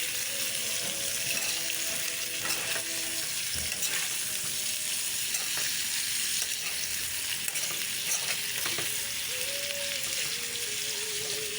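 Chicken fries in a pan with a steady loud sizzle while being stirred, the scrape and clatter of the utensil repeating against the pan throughout.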